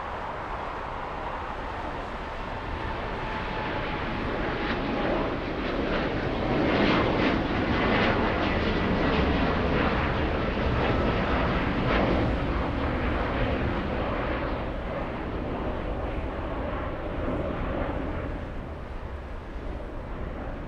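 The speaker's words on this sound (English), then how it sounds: "Let's go for the 787 Dreamliner on the roll." Boeing 787 Dreamliner jet on its takeoff roll, a loud continuous roar of engines building and holding, heard from outside at an airport.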